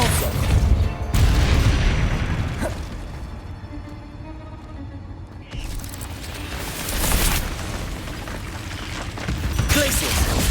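Combat spells Confringo, Bombarda and Depulso cast in Hogwarts Legacy: loud blasts and explosive impacts with crackling bursts, several heavy booms separated by brief lulls, close and forceful.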